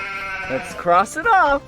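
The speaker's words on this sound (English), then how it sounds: "It's a sheep." A sheep bleats twice in short wavering cries amid a cheerful children's animal-sound game, with a person speaking over and between the calls.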